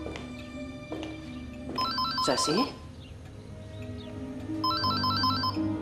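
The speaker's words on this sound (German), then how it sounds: "Telefon!" A phone ringtone chimes in repeated melodic bursts, with a brief rustling clatter between rings and a voice calling out once.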